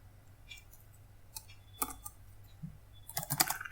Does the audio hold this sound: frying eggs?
no